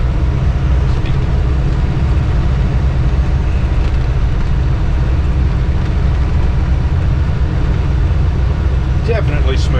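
A Mahindra Roxor with leaf spring suspension and swapped shocks rumbles over a rough trail section, its engine and jostling chassis producing a constant loud low drone with faint rattles, while a person talks over the ride.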